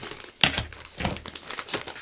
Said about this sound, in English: now I can use my scissors to trim away that excess